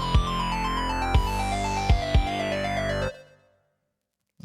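A synth pattern played on a Synthstrom Deluge sounds as a sequence of bright, buzzy tones with sharp attacks at a quick, uneven rhythm, gliding steadily downward in pitch before cutting off abruptly into silence.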